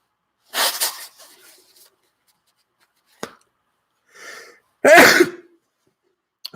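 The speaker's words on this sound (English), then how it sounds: "I have been playing in the cold too much and am about to sneeze." A sneeze bursts out loudly near the end, after a few quieter breaths and small throat noises in an otherwise silent room.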